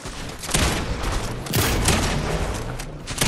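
Gunfire crackles in a battle royale video game, a short dense volley with a couple of sharp louder shots standing out over continuous rattling.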